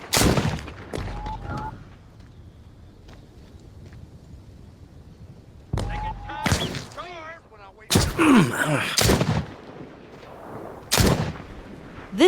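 Pistol shots in The Walking Dead Saints and Sinners video game: a handful of sharp, loud cracks spaced seconds apart over low ambient noise, with a voice and game sounds in between.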